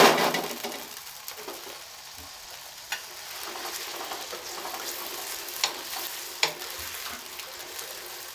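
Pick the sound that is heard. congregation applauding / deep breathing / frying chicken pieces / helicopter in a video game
frying chicken pieces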